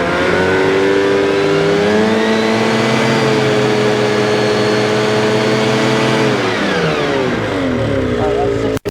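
Ski-Doo snowmobile turbo engine with a turbo muffler revving from idle: a loud, close, steady engine tone climbs and holds at high revs, then steps to a higher pitch before cutting off abruptly at the end.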